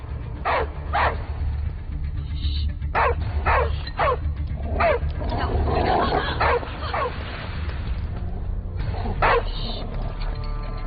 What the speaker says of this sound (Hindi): सामने कुत्ता दिख रहा है?